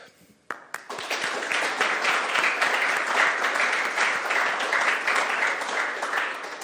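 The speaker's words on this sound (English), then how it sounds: "Ladies and gentlemen, please join me one more time with a round of applause." Sustained audience applause fills the room at the closing of an illicit liquor forum, rising quickly after a brief pause and holding dense and steady for several seconds without speech.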